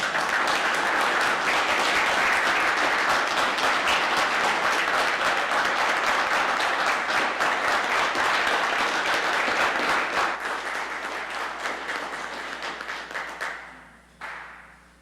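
Sustained applause from the audience at a city council meeting, honoring retiring staff who served the city for more than 25 years. Dense, steady clapping continues for about ten seconds, then thins and fades to silence.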